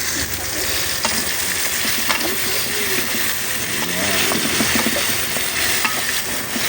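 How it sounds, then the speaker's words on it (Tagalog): Chopped tomatoes sautéing in a hot pan, a loud steady sizzle broken by frequent scraping and clinking stirs, with faint murmuring voices in the background. "Gisa lang muna natin yan"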